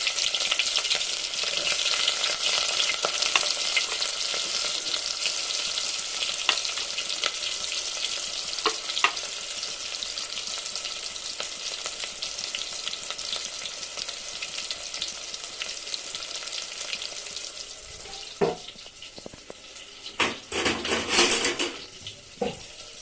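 Chopped onion fries in about three spoons of hot oil in a pan, a loud continuous sizzle with occasional stirring scrapes and pan clatter, growing busier near the end.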